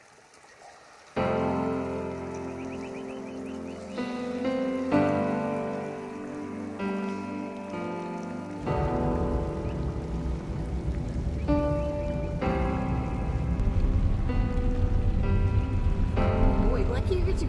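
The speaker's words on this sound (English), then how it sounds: "we are getting a big rainstorm" Heavy rainstorm in the Arizona desert, a dense steady wash of rain hammering surfaces, while someone talks over it and music-like tones sit underneath.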